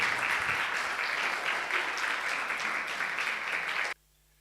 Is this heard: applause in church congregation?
yes